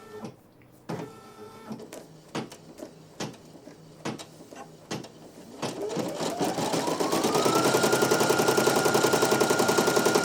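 A Brother PE900 embroidery machine runs on a 5x12 multi-position hoop, first with a few sharp clicks and thumps, then settling into a loud, steady rapid stitching rhythm with a rising motor whine.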